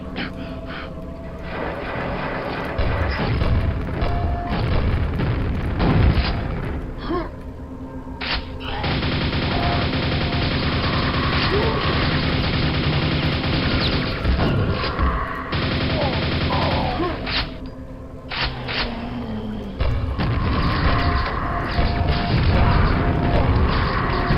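Grenade launcher fire and explosions in Quake, a dense, continuous barrage of booming blasts and mechanical gunfire clatter that runs loud and nearly unbroken for the whole stretch.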